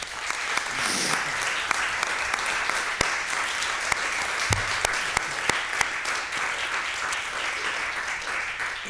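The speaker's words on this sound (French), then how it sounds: "Je vous prie de l'applaudir." Audience applause at a film festival lecture on Pan-African cinema, a steady, sustained patter of many hands clapping in a hall, with a few sharper individual claps standing out and no speech over it.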